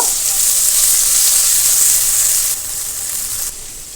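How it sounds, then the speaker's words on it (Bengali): Ground onion and garlic paste fries in hot oil with a loud, continuous close-up sizzle and hiss that drops slightly in level toward the end. "পেঁয়াজ রসুনটা একটু বাদামি কালার করে ভেজে নেব।"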